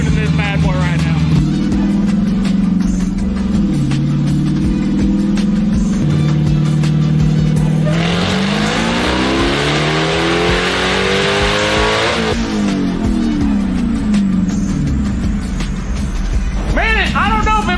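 A loud, tuned Dodge Hellcat engine revs hard up and down on a dynamometer, winding to a high screaming pitch and holding, very close and aggressive, with brief voices between.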